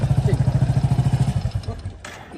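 A motorcycle engine thumps in a steady rapid pulse, loud and close, then fades and tapers off after about a second and a half, with a brief burst of noise near the end.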